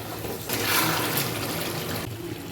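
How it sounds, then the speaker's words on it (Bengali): Mutton curry broth is poured into a cooking pot, a brief rushing splash of liquid that swells for about a second and a half before tapering off. "এইবার যেটা করব এই পুরো ঝোলটা আমি এটার মধ্যে দিয়ে দেবো"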